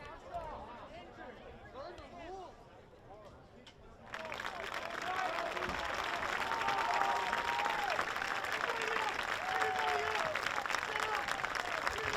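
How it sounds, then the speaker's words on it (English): Stadium crowd at a boys lacrosse championship final in Exeter, applauding steadily and loudly after a quieter stretch of crowd chatter, with voices talking over the clapping. "The applause you hear is because Michael Ponto is able to sit up"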